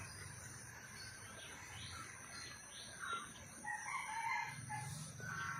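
A rooster crows in the distance over a steady chorus of crickets and insects, with a second crow rising near the end.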